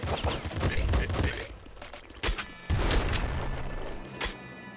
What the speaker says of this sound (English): Got myself an assault rifle as well.